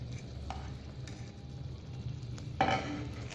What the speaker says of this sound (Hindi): इसके बाद हम इसके अंदर गाजर ऐड करेंगे